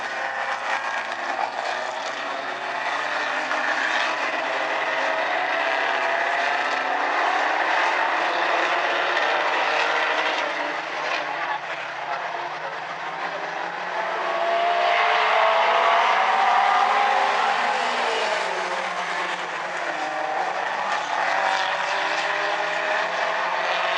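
Outlaw Compact race cars roaring as a pack around South Sound Speedway, a steady, loud engine drone that swells as the field passes near, then eases back, with no talk over it.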